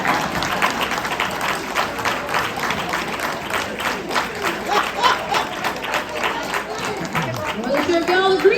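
Audience clapping during an International Women's Day keynote address, a busy wash of claps and crowd noise mixed with chatter, and a voice speaking near the end.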